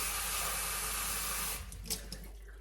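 Rosemary apple cider vinegar tincture poured into a dropper bottle: a steady, loud rushing stream for about a second and a half, then it tapers into scattered drips and small splashes.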